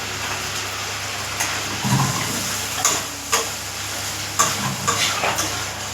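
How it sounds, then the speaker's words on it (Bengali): Spice paste of chilli and turmeric powder with a slit green chilli frying in a pan for a tangra fish curry, a steady close sizzle with intermittent scrapes and knocks as it is stirred, no voices present. "মশলাটা খুব ভালো করে কষিয়ে নেব।"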